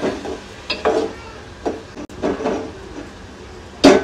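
Ginger garlic paste sizzles in a hot pan, a steady hiss broken by a few sharp stirring scrapes and clatters, with a louder scrape near the end.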